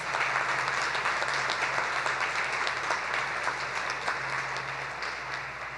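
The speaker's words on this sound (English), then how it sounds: "Let's give them both a round of applause." A commencement ceremony audience applauds award recipients, a dense, steady wash of many hands clapping at once throughout, with a low hum beneath, tapering slightly toward the end.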